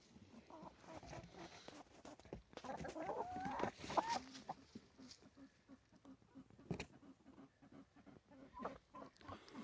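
Several hefty new chickens, likely in a transport box, cluck intermittently at close range, with soft scuffling and shifting throughout and occasional louder squawk-like bursts around the middle.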